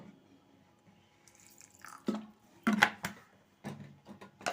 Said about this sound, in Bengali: একটুখানি সর্ষের তেল দিয়ে দিচ্ছি কাঁচা সর্ষের তেল আর সামনে একটু জল দিয়ে দিচ্ছি